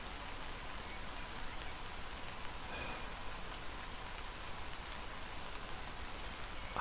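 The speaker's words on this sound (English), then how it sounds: "Oh, it's raining today." Steady rainfall in the farming video game Harvest Days, a continuous even hiss of falling rain with no talk over it.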